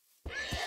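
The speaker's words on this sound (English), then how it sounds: "Watch him swing at this horse." A horse in the video game Minecraft lets out a short, loud whinny when struck, heard alone and close.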